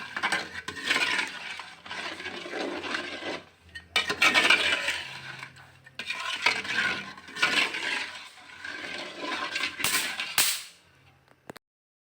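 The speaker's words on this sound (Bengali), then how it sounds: "ডালিমটা ঢেলে দেওয়ার পরে অনবরত নাড়তে থাকতে হবে" Haleem being stirred continuously in a pot after soaked lentils are poured over braised meat, with repeated scraping and rubbing strokes in bursts and brief pauses, close and moderately loud, no talk.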